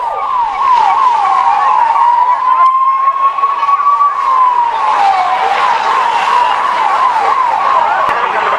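A fire brigade siren wails continuously in a loud, rising and falling cycle after a fire at the Mahakumbh gathering, with crowd noise and traffic faintly beneath it.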